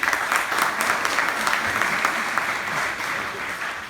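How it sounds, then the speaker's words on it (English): Students applaud at a college orientation day, a dense, steady roll of many hands clapping close by, filling the whole stretch without pause. "students, let's give sir a huge round of applause, please"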